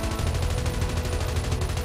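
Gunfire in Call of Duty Mobile cracks out in a rapid, dense burst of automatic shots that is loud and sustained throughout, with no voices.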